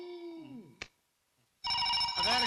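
A phone ringtone plays a tonal melodic pattern, stops with a short click and a pause, then starts ringing again, louder and brighter.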